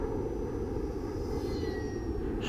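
A small UMX Voodoo RC plane carrying an FPV camera makes a low pass, giving a steady buzzing motor whine with a faint rising electric tone as it goes by, and no one speaks.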